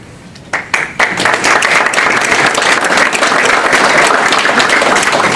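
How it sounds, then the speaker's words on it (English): Audience applause breaks out for Amanda Baker at a school alumni awards ceremony, starting with a few scattered claps and swelling into steady, loud, sustained clapping from a full room. "Please give a round of applause for Amanda Baker."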